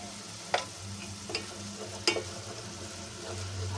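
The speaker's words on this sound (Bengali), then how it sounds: "মশলাটা কষাতে থাকি।" Spice paste with green chilli and ground cumin frying in a pan for beef curry, a steady low sizzle broken by three or four sharp scraping stirs, close and alone with no voices.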